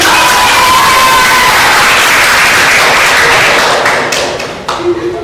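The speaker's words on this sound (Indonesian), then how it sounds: "Kompak semua, tepuk tangan." A classroom of students claps together in unison during a lesson, a loud dense burst of clapping and thumping that fades out near the end, with a few separate claps and a voice at the close.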